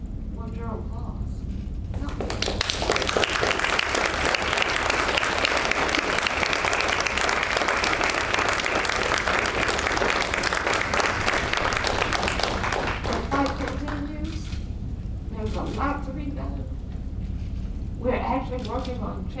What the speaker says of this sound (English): we just need to take a second and honor them with your applause